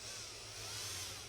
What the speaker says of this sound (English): you gotta be very careful when you're drilling this